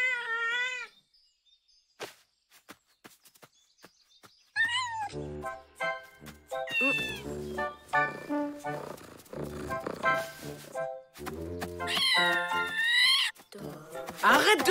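Cartoon cat meowing in drawn-out, wavering cries, close and loud, with several meows scattered between spoken dialogue and brief clicks and thuds.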